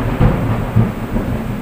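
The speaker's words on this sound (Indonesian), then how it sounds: "suasana di luar hujan, gerimis, kemudian ada petir" Thunder rumbling outside during light drizzling rain, a steady loud low roar with brief swells, no voices.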